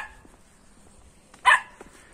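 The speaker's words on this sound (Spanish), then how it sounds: "Perdonen por los perros, yo no puedo evitarlo" A single dog bark rings out on a city street in Santiago de Chile, a short sharp yelp at middle distance over quiet background noise.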